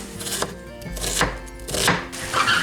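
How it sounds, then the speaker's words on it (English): An onion is chopped with a knife on a board, four or five distinct, close thuds at an uneven pace, with no talking. "I'm gonna get an onion to chop up."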